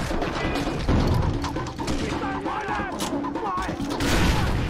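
Grenade blasts and gunfire in Far Cry 3 pile into a dense, steady roar of muffled thuds and crackle, with game voices underneath throughout.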